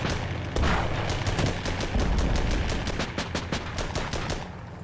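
Rapid machine gun fire in the tank combat game Armored Battle Crew, a dense stream of sharp, evenly spaced shots over several seconds with a heavier boom early on, loud and continuous with no talking.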